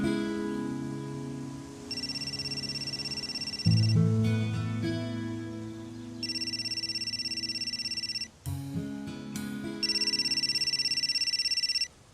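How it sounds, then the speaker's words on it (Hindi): A telephone rings in repeated bursts with short pauses between them, steady and fairly loud, over a low background hum. "यार समन, कब से फोन कर रहा हूं, तुम्हारे यहाँ फोन सुनने का रिवाज नहीं है क्या?"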